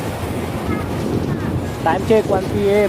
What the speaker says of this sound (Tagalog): Napakaganda ng hangin, ang lakas ng hangin.